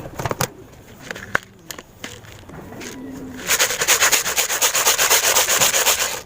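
Pigeon feed is stirred and mixed by hand, a fast, regular rubbing scrape that grows loud and rhythmic in the second half, with pigeons cooing and scattered knocks nearby.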